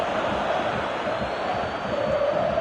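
Stadium crowd in a PS4 football video game gives a continuous loud roar of cheering and chanting, dense and even across the whole stretch.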